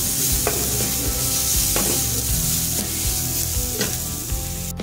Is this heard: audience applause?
no